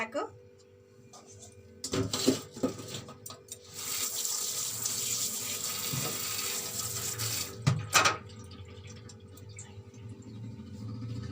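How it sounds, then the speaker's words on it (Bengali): A bottle gourd being washed under a running kitchen tap, with steady splashing water that begins after a quiet start and carries on continuously, broken by a few louder bursts and clatters. "লাউটা ধুয়ে নিয়ে রান্না বসিয়ে দিই"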